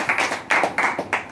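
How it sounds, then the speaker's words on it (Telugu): A church congregation claps hands during a Telugu Christian sermon, several loud bursts of clapping in an uneven rhythm across the short span, with no talk over it. "చప్పట్లు కొట్టు స్తోత్రం"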